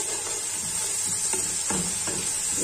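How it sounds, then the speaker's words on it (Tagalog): Onions sizzle and brown in a pan, a constant close hiss of frying with a few soft stirring scrapes, no talking. "Gusto ko lang medyo ma-brown ng kaunting sibuyas."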